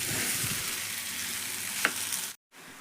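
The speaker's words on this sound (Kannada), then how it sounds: "ಇದನ್ನೆಲ್ಲ ಈ ಥರ ತಳಗ ಮೇಲೆ ಮಾಡಿ ಎಣ್ಣೆ ಒಳಗೆ ಅದನ್ನು ಫ್ರೈ ಮಾಡ್ಬೇಕ್ರಿ" Leftover masala frying in oil for a North Karnataka brinjal curry gives a steady, close sizzle with a single bright scrape of the stirring spoon near the end, then a brief drop to silence.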